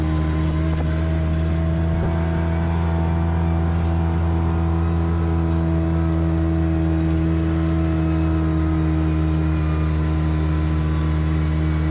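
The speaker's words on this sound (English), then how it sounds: "now we're driving" A vehicle driving along a dirt trail through gold fields, with a steady, loud engine drone and low rumble holding unbroken throughout, close by and without speech.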